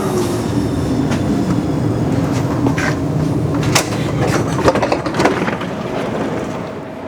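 A Helsinki metro train rolls along with a steady low rumble and rail clatter, brief squeals and clicks rising near the middle before the noise eases toward the end.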